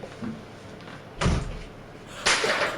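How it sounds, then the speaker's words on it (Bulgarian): Wooden wardrobe door falling off its hinges, giving two loud thuds about a second apart, a heavy knock followed by a sharper clatter, close by with no speech. "Вратата ми падна, бе!"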